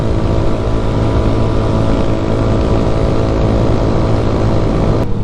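A steady, loud engine drone with a throaty exhaust rumble from a Honda TMX 125 motorcycle on Marcos Highway runs continuously, close up and unbroken, with no talking.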